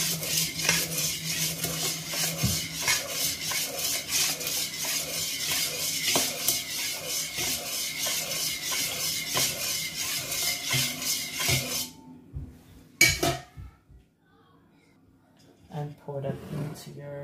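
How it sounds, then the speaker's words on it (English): Spoon stirring sugar into Nigerian zobo drink in a pot, a rhythmic scraping and clinking that runs steadily for about twelve seconds before stopping, with a voice talking afterward. "give that a stir until your sugar has been dissolved"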